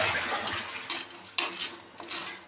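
Peanuts dry-roasting in a pan for curry leaf chutney, with rattling scrapes and clinks as a utensil stirs them, in several short bursts, close and fairly quiet.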